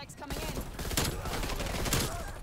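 Rapid rifle fire from an M16 in a Call of Duty style online match, a steady stream of crisp shots at close range with a voice talking faintly underneath.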